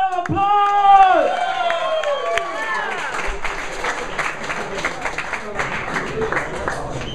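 An audience at 622 North claps and cheers for a performer, a loud burst that settles into steady applause. Music tails off at the start, and scattered voices and whoops sound within the crowd.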